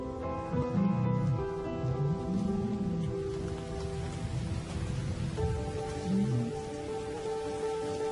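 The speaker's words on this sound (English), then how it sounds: "As the storm breaks" A rainstorm with thunder breaks over lion country, its steady hiss of rain joined by low rumbles, heard at moderate level beneath sustained tonal music.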